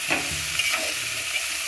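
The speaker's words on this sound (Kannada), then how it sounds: "ಹಾಕೊಂಡು ತಿರ್ಸ್ಬೇಕ್ರಿ." Chopped papaya is tipped into a pan tempered with onion and curry leaves and stirred. Close scraping strokes ride over a constant sizzle of frying, with no talking.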